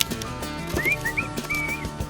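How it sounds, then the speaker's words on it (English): A few short, rising whistled notes, a couple of quick chirps then a longer held tone, over a steady low background rumble at a campsite in Cape York. "Whistle while you work."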